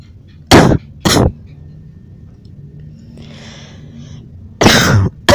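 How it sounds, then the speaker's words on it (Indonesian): Three sharp, loud coughs ring out close to the microphone, two in quick succession and then a third after a pause, with faint background noise in between. "Cari guys, gue batuk."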